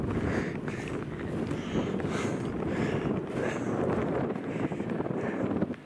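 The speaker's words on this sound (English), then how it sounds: "Comes and goes, that wind, doesn't it?" Wind gusts blow over an exposed camp spot by a mountain tarn, producing a loud, steady rush and buffeting that swells and eases close to the microphone.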